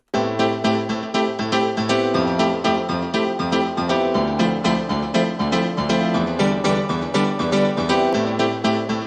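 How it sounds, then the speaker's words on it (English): Korg M1 piano chords layered with a mellow electric piano play a steady, rhythmic 90s house pattern, loud and up close, with no one talking. "I'm going to double the M1 piano line with an electrical piano."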